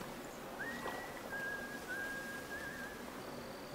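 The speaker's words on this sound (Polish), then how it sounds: "A ten znowu tutaj gwizdża." A character whistles in the video game Black Tail: one faint, thin sustained tune with slight pitch bends, heard over soft outdoor game ambience with no speech.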